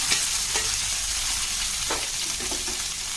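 Stuffed bitter gourd frying in hot oil with curry leaves and popped mustard seeds, a steady close sizzle with a few soft stirring scrapes.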